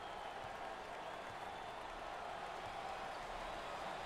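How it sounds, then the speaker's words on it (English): Steady roar of a home crowd in an arena during an NCAA March Madness second-round basketball game, Cal State Fullerton versus USC, cheering continuously at an even, dense level with no clear breaks. "I think the home fans are going crazy"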